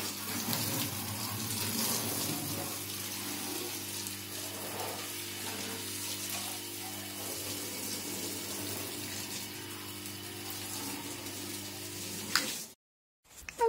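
A weak stream of water runs from a hose inside a van under conversion, a steady broadband hiss and splash continuing without pause for about twelve seconds before cutting off abruptly, with no talk over it.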